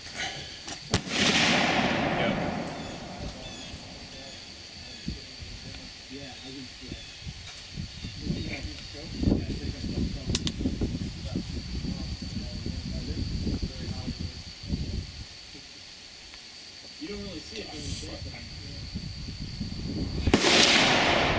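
A Mossberg 930 SPX semi-automatic shotgun fires slugs at an outdoor range at a 50-yard target. A loud blast comes near the start and another at the end, with talk and handling noise in between.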